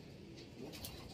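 A pigeon gives a soft, low, brief coo, quiet and close, with faint background noise and no speech.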